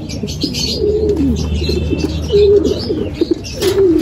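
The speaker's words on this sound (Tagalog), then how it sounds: "Nandito na kalapatid yung brown natin." Pigeons coo repeatedly in short throaty phrases close by as a brown racing pigeon arrives, with faint chirps and a soft flutter of wings over a low outdoor hum.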